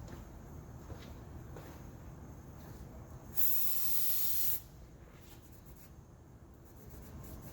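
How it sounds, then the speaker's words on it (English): Cleaner is sprayed onto a rag during cleaning of a Mercedes M119 engine block: one close, bright hiss lasting about a second, set against a quiet background. "I'm just going to spray it on the rag"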